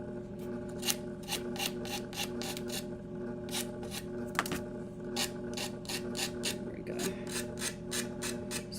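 Sandpaper is rubbed rapidly back and forth across cardstock, giving a steady run of short, even scratchy strokes close to the listener. There is no talking.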